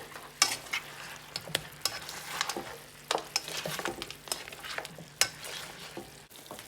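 Turkey wings being stirred in brown sugar in a pot, with a soft steady sizzle under repeated scraping and clacking of a utensil against the pot, close up and with no talking.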